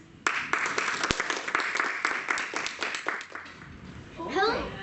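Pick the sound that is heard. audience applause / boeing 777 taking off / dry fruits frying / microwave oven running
audience applause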